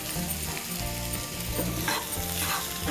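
Spices and vegetables frying in a pan as a potato dish for a Bihari breakfast cooks, giving a loud continuous sizzle with stirring scrapes, heard up close without any talk.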